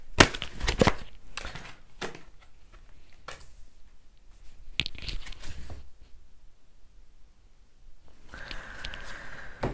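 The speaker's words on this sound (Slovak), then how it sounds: "Ešte by som si ten zvyšok kariet doložila." Tarot cards being laid out on a table: a scatter of soft slaps and taps, busiest in the first seconds, then sparse quiet handling and a faint rustle toward the end, with no talking.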